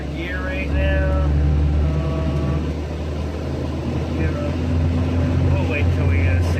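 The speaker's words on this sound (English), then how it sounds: "this car is loud as shit" A turbocharged car with a stiffer wastegate spring fitted for 15 lbs of boost, driven in third gear. Its engine makes a loud, steady drone throughout, with brief whistling tones over it and some faint voices.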